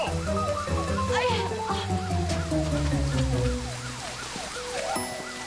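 A wailing ambulance siren rises and falls repeatedly, loud and close, stuck in traffic over a busy noisy background that fades slightly toward the end.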